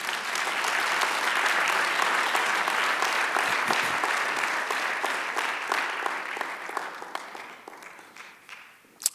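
Church congregation applauding, a dense sustained roar of many hands clapping at steady volume that gradually thins and fades out toward the end.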